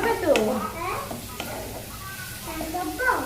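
Onion and garlic sizzling in a pan with yogurt-marinated meat, with stirring clatter and brief scrapes, while a voice talks over the frying at close range.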